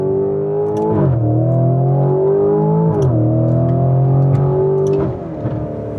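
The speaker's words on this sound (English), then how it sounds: "I'm gonna toggle into Street, Sport, and Corsa, which fires up that twin-turbo V8" A Lamborghini Urus SE's twin-turbo V8 revs loudly and close, its tone climbing and dropping in repeated sweeps as the engine spins up and settles.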